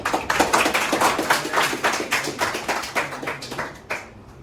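A room of people claps by hand for a stock trading contest presentation, a dense run of many overlapping claps that lasts about four seconds and then trails off.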